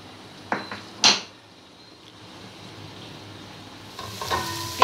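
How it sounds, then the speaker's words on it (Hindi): Mutton shallow frying in a pan gives a soft, steady sizzle, broken by a few sharp clinks of a utensil against the pan. "ये मटन शैलो फ्राई हो गया है"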